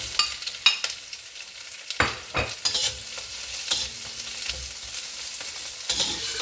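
Roasted pork being stir-fried for yellow noodles in an oiled pan, with scraping spatula strokes and clanks over a steady sizzle, close and moderately loud, no talking.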